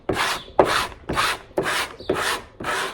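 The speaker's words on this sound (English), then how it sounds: "you're going to take this blade and scraping it." A blade scrapes leftover paint off a wooden door in six steady, rasping strokes, each about half a second long, close and fairly loud with no talk.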